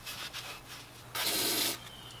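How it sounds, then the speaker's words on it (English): A Scotch-Brite pad scrubs the metal shift arm from a 1985 Pontiac Fiero to prep it for paint, giving faint short rubbing strokes and one longer louder rasping pass near the middle. "Scotch-Brite was once again implemented, this time to clean up and prep the surface for paint."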